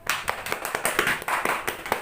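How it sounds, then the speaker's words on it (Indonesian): A small classroom group claps for a student in a loose, uneven rhythm, with distinct individual hand claps close by for about two seconds. "Tepuk tangan lagi dong untuk Wahyu."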